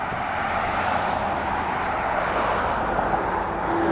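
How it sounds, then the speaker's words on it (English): Road traffic crosses the Maurice River bridge in Maurice River Township as a loud, continuous rumble and hiss of passing vehicles, swelling slightly as one goes by, with no talk. "I can't help if there's a lot of noise from the traffic."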